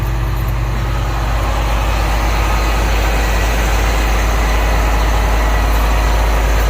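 Heavy trucks idle in a truck stop lot at night, a loud, steady low diesel rumble that holds unbroken throughout, with no talking over it.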